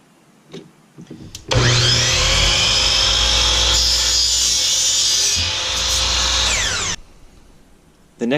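A power tool cuts through PVC pipe to make 13-inch sections for a DIY kayak camera mount, a loud steady whine running about five seconds with a rise at the start and a drop at the end, with faint handling noises before and after.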